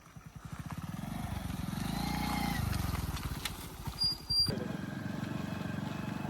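A motorcycle engine on an off-road trail idles with a steady putter, revs up briefly and settles again, staying close and loud the whole time.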